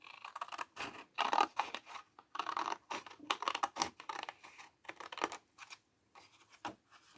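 Scissors cut along a pencil line on paper in short, close, crisp snips and scratchy slices, broken by brief pauses, with no talking.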